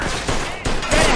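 A rapid volley of gunshots in a Mafia II gunfight with the Greasers, several loud sharp cracks firing in quick succession over a short burst.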